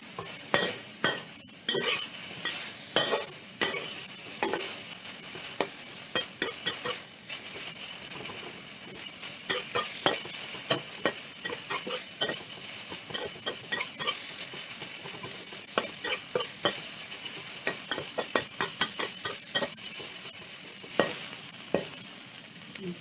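Pork stir-frying in a pan for fried instant noodles with pork and pork balls: steady sizzling under repeated scraping and clinking of a spatula against the pan, close and continuous, with no talking.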